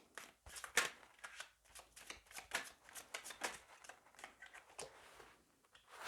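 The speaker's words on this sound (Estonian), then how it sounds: "Ühe korra segan veel." A deck of tarot cards is shuffled by hand, giving quiet repeated riffling and sliding bursts in an uneven rhythm, close up and faint, with no voices.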